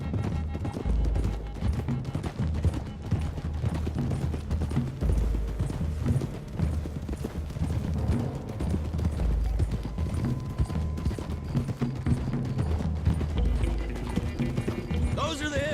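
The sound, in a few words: horses' hooves clip-clopping in the video game Red Dead Redemption 2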